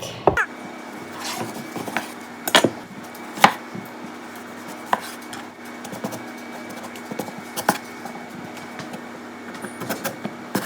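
A knife chops vegetables into half-inch strips for fajitas on a cutting board, giving crisp, uneven knocks, some sharp and loud, against a steady low kitchen hum.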